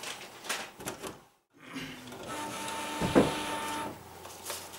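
An inkjet printer fitted with a replacement color ink cartridge runs a print job, whirring and clicking as the carriage shuttles and paper feeds, close and fairly quiet, with a brief pause before the mechanism starts.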